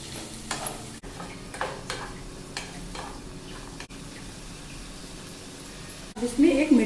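Stirring poha with peas in a pan: scraping and soft clinks of a spoon against the pan over a light sizzle, in irregular strokes, with a louder clatter near the end.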